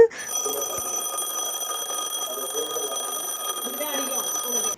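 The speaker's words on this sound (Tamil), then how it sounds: "அலாரம் சவுண்டும் நல்லா ஹையாகவே வந்து இருக்குதுங்க" An alarm clock rings with a steady, high-pitched electronic tone that continues without pause, with faint talking underneath.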